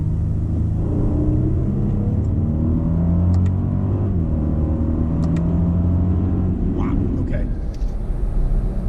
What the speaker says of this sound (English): Like I ran almost all the way through the RPM and it still hadn't shifted.